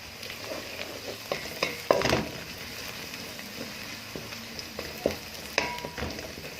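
Onion and garlic fry in butter for an okra tagine, giving a steady soft sizzle with scattered spoon scrapes and light clinks against the pan.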